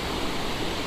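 A mountain stream at Karnaprayag in Uttarakhand, flowing toward the Pindar river near the Alaknanda, gives a brief, steady roar of rushing water with no voices.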